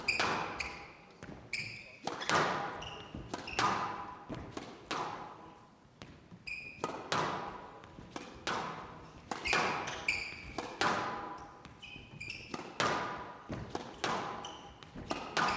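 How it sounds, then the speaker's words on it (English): A squash ball is struck and bounces off the walls during a professional men's quarter-final at the Windy City Open 2020, giving a steady rally of sharp, echoing thwacks and thuds in an indoor court, fairly loud and without commentary over them. "It's a clever serve, Rösner hunting the volley."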